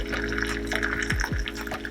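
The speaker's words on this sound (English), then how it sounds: "I love the sound of the tea pouring into the mug." Freshly brewed tea pours from a pot into a mug, a close, continuous trickling stream with a rising gurgle as it fills, no voices.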